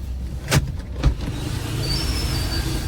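A car being parked after driving up a slope, heard as a low steady engine hum with two brief mechanical clunks early on, fairly close, with no talk.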